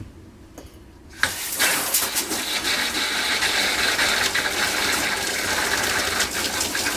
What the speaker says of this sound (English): We'll go to the shower and run the cold side on the shower.